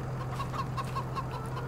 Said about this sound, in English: You go, chickens.